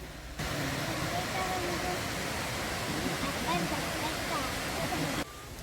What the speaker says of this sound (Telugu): అసలు నీళ్ళు అంత హైట్ లో నుంచి ఎలా పడుతున్నాయో చూడండి కింద పడేటప్పుడు పెద్ద సౌండ్